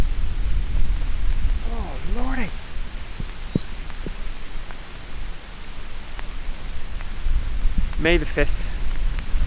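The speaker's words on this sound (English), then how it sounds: "Goodness me, it's hail." Hail falling in a wild garlic woodland, a steady dense hiss of pellets on leaves and ground throughout, with a person briefly talking and a few bird calls cutting through.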